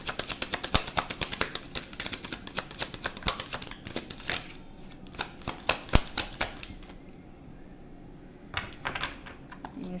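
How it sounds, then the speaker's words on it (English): Tarot cards shuffled by hand in quick crisp riffles and flicks, a rapid clattering burst, then a pause and a few scattered snaps of cards, close and fairly clear. "I'm going to shuffle"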